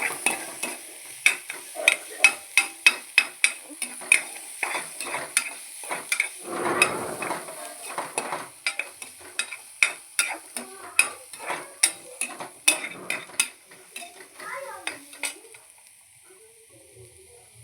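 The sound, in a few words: sautéing chopped onions in ghee, stirring in pan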